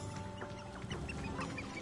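A couple of chickens cluck in soft, scattered bursts against an ambient outdoor backdrop in Hogwarts Legacy, with no talking.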